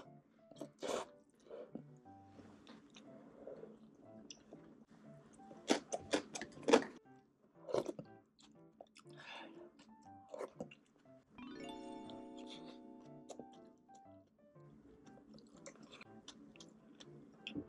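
Close, quiet chewing and mouth sounds while eating spicy food such as jjimdak, with soft irregular crunches and clicks, a few louder bites, and some faint background noise in a calm room.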